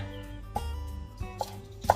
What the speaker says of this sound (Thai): เราก็มาหั่นต้นหอมนะคะเอาตรงใบเขียวๆ ค่ะ